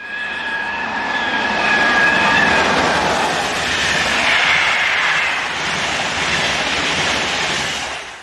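An SNCF BB15000 electric locomotive hauls a passenger train from Paris near Strasbourg, with a loud, close, sustained roar of wheels and rails and a whining electrical tone that swells and then fades slightly.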